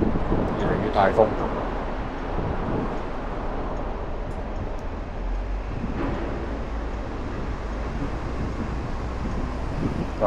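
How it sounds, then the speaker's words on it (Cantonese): Strong wind gusts along a Hong Kong street beside a new public housing estate, a steady broadband rush with faint passing traffic and people's voices mixed in. "越嚟越大風"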